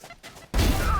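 A sudden loud gunshot crack from the game Valorant cuts in about halfway, following quieter muffled game sounds.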